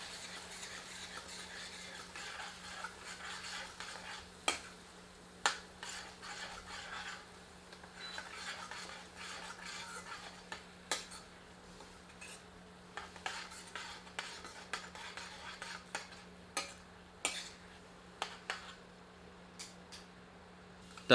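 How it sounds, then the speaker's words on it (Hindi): Ground onion paste is stirred in oil in a pan over medium heat, with a spoon giving intermittent close scrapes and light clinks against the metal over a soft, steady background hiss. "इसे तेल में मिलाकर 3 से 5 मिनट मध्यम आंच पर भूनते हैं।"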